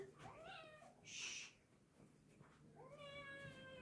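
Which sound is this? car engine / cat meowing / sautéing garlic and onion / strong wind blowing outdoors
cat meowing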